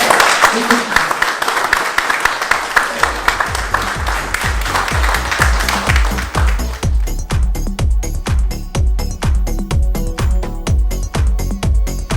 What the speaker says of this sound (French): je voudrais qu'on salue et qu'on applaudisse tous les agents ici présents pour leur travail.